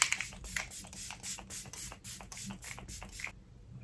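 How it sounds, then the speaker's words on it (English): About a dozen quick, crisp bursts of e.l.f. setting spray onto a face in a steady rhythm, close and fairly quiet, ending in silence. "I am gonna set it with this e.l.f. setting spray"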